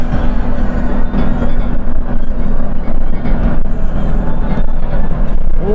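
A Rosalia Indah bus rolls past with a loud, continuous low roar and rumble of engine and tires, close and steady throughout without talk.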